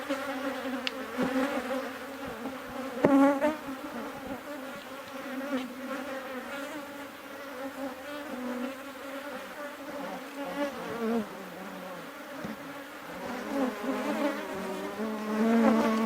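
Honey bees buzz steadily throughout an open hive during an inspection of brood frames, a dense, continuous drone of many wings close by with no talk over it.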